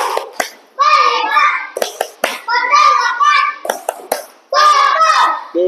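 A class of children does a rhythmic clapping chant, in which bursts of sharp, loud hand claps alternate with the young voices chanting in unison, repeating in three close, energetic rounds.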